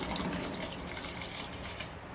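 Soaked rice pours into a pot of boiling water for egg fried rice, a short continuous gush and splash of liquid, loud and close, with no talking.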